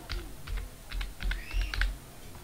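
Typing on a computer keyboard, a short run of light close key clicks in small uneven clusters, with no talk.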